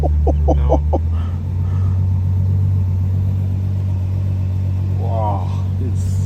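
A Ferrari GTC4 Lusso V12 fires up and settles into a loud, deep, steady idle rumble close by, while people speak over it at the start and again near the end.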